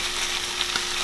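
Rice sizzling in a frying pan, a constant close hiss and crackle with a couple of faint knocks as it is stirred, no talking over it.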